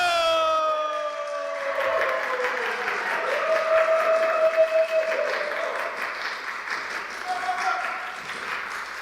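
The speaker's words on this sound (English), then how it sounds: "we're all gonna welcome them with a huge applause, the biggest applause you can muster" Audience at a poetry event welcoming poets with applause and cheering, a broad crowd roar with whoops and a high sustained whistle-like tone at the start, building and staying loud before tapering.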